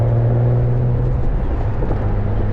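A Porsche Boxster S (986) engine drones steadily and close as the driver skips second gear and shifts into third. The low rumble holds even throughout, with no voices.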